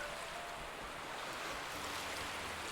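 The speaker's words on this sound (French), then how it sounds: "Devant toi, les vagues viennent et repartent." Ocean waves washing in and out, a steady broad rushing roar with a slight swell, continuous and moderately loud with no voices.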